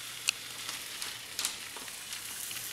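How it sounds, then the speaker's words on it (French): Crêpe batter sizzling in a hot frying pan, a soft steady fizz with faint crackles and a low background hum throughout. "on met juste assez de pâte à crêpes pour que ça aille partout"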